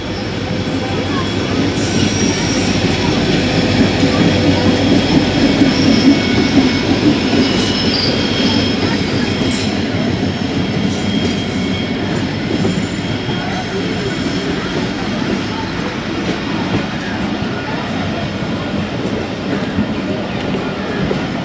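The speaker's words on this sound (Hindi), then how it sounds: "सक्खर एक्सप्रेस भी आ गई है" The 146 Down Sukkur Express arrives on the down track, a long train rumbling loudly and continuously close by with wheel squeal and rail clatter, with some voices talking underneath.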